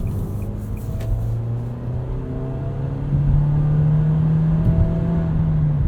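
A 2022 Nissan Kicks SR's 1.6-liter four-cylinder engine accelerates, heard from inside the cabin as a steady low drone with a gradually rising engine tone and road rumble.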